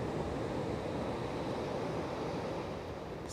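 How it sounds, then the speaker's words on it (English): Calm, gentle ocean waves wash in a soft, continuous hiss, quiet and even, with no voices. "So just listen to the waves."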